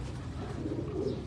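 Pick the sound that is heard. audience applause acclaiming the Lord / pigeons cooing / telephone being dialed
pigeons cooing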